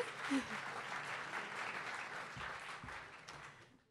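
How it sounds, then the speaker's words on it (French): Applause from a conference audience at a medical technology panel, soft and fairly distant, tapering off toward the end, with a few brief voice sounds mixed in. "Oui, vous pouvez applaudir"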